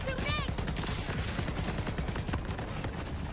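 Gunfire shot from a vehicle in a video game, a dense run of rapid shots that rattles steadily over a loud mix, with a brief rising electronic whine at the start.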